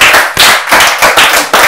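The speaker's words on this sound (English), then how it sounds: "Let's clap for him." People clapping on a children's cooking show, a few loud, close, sharp claps in a brisk, slightly uneven rhythm of roughly six to seven strikes, with no talking.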